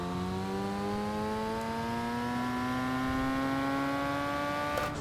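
A turbocharged BMW M2 Cup car engine in the ACC racing game, a steady droning engine note with rising pitch as it accelerates and a faint turbo whine over the top, heard without speech.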